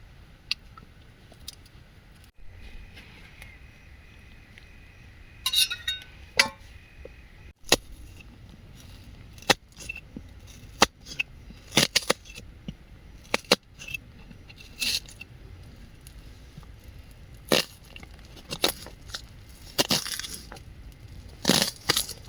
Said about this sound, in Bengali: তো আমরা এখন ম্যাগি রান্না করার জন্য পেঁয়াজ কাটছি।